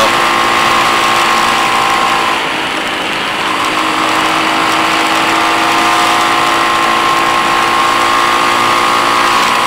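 A Chinese motorcycle cruising at about 70 km/h through city traffic gives a loud, steady engine drone with wind rush, holding an even pitch with a brief dip near the middle and no voices.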